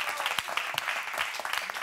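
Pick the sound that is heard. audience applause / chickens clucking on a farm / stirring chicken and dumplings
audience applause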